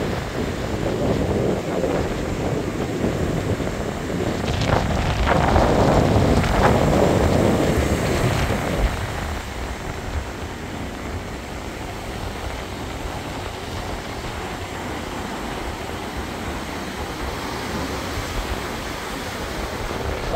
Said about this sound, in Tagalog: kahit na malakas ang alon